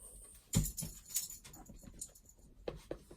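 A spoiled pet dog whimpers and pants indoors close to the microphone, with soft whines, breathy panting and a few sharp bumps or jingles scattered through a quiet room.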